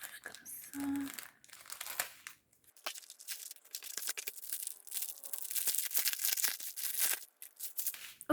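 Diamond painting kit packaging being torn open by hand, with crisp crinkling and ripping of plastic and paper in close, uneven bursts, briefly interrupted by short quiet gaps.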